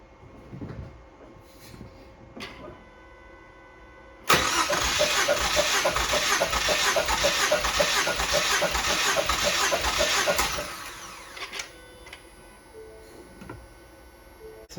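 A car engine cranks over on the starter without firing during a cylinder 1 compression test, a loud rhythmic chugging churn lasting about six seconds and then stopping, with quieter clicks and handling noise before and after.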